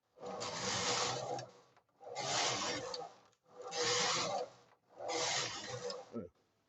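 Four rhythmic passes of a restored knitting machine carriage sliding across the needle bed while knitting tuck stitch, each a rasping, rubbing sweep of about a second, close with short quiet gaps between.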